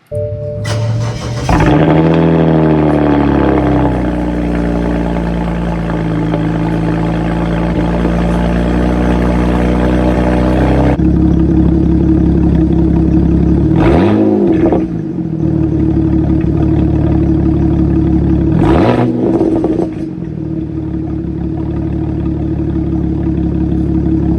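A BMW exhaust revving hard, captured on a phone: a loud, harsh, distorted engine roar rising and falling through several revs, with two sharp blips near the end, no talk.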